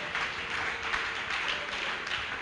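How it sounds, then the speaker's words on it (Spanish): A church congregation applauding together, steady dense clapping at moderate distance with no break, a faint voice barely present underneath. "Ese aplauso fuerte, fuerte, fuerte para Jesucristo"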